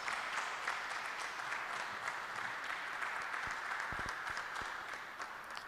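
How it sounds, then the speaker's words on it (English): Audience applause welcoming a speaker at a church event at Christ the King, Cantonments, a faint, continuous patter of clapping from a distant crowd that tapers slightly at the end, with a few low thumps. "Let's give him a round of applause, please."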